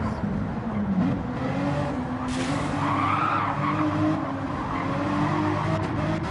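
Gran Turismo 7 race car spinning out in a GT World Challenge league race, a steady engine drone with a rising tire skid squeal midway, continuous and fairly loud throughout.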